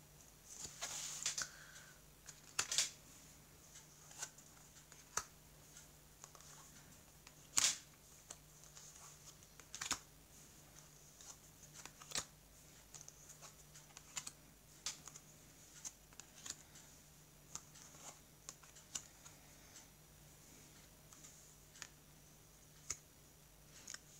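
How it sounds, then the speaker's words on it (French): Tarot cards cut and laid face down on a table make soft, scattered clicks and light taps, quiet and close, spread irregularly with no voices. "je vais couper le jeu et je vais donc recouvrir les cartes"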